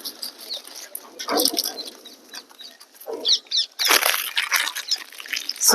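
Birds flap their wings as they gather to be fed biscuits outdoors, with several close bursts of fluttering mixed with faint chirps and soft background noise.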